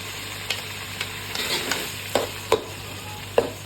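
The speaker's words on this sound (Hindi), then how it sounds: "अब हम इसमें जिंजर पेस्ट डालेंगे।" Ginger paste frying in onion masala for black chana, a steady sizzle in the pan broken by a few sharp spoon scrapes and taps, close up with no talking.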